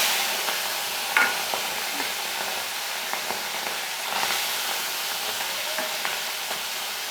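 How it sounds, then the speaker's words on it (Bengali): Puti fish fry in hot oil with a steady, close sizzle and crackle, punctuated by brief louder spatters and pops throughout. "এবার আমি প্রথমে মাছগুলোকে একবারে দিয়ে উল্টে ভেজে নেব"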